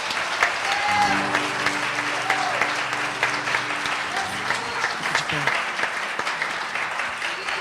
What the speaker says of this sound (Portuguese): Louve o Senhor com a salva de palmas em nome de Jesus